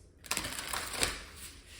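Tarot cards being shuffled by hand from a large deck, a burst of papery riffling and soft flicks close by, lasting a second or so with no talking over it.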